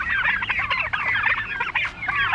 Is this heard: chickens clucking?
yes